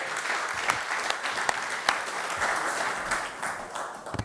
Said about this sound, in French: C'est à vous et on peut l'applaudir également.